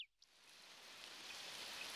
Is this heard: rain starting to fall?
yes